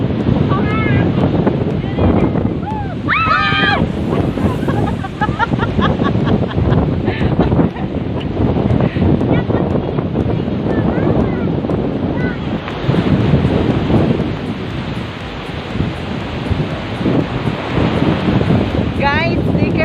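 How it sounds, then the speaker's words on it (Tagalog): Strong typhoon wind buffets the microphone while ocean waves crash and surge along the shore, a loud continuous roar throughout with brief voices mixed in. "Malakas yung alon."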